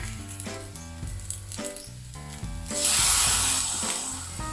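Thai green-cap sauce splashed onto the side of a hot wok while cooking shrimp fried rice, a bright hiss that swells and lingers over the clatter of stirring.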